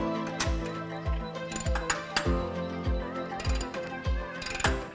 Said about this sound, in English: go ahead and get them tightened up with a 21mm socket and a box wrench on the back